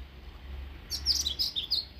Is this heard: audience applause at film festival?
no